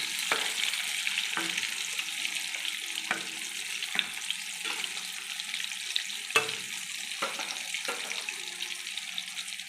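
Chicken cutlets deep-frying three or four at a time in plenty of oil, a steady bright sizzle with occasional clinks and scraping knocks of a utensil against the pan.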